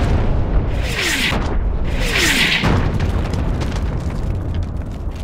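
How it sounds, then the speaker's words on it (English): A Mobile Protected Firepower combat vehicle fires direct rounds that destroy an enemy strong point. Two descending whistles each end in a loud, close boom, and a heavy rumble lingers after the blasts. "The MPF engages and destroys the threat with direct fire."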